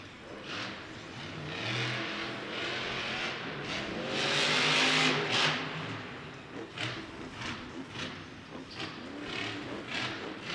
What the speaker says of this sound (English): Todd LeDuc working these race lanes right now